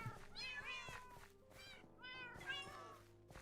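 A cat in the Minecraft video game meows several times in a row, each call short and bright, with brief pauses between them, heard softly and alone.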